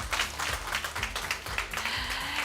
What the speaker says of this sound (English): Let's give Cedric another round of applause.